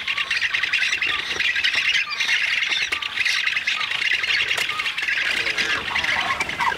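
A heronry full of nesting birds raises a constant, dense din of harsh squawks and calls, loud and close, overlapping without pause throughout.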